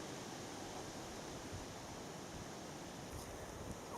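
Strong hurricane-force wind sweeps across a fishing pond in a steady, dense roar of rushing air and microphone buffeting, with no voices.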